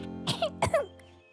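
A cartoon dog character gives two quick, close coughs in succession, bright and clipped, standing alone without dialogue.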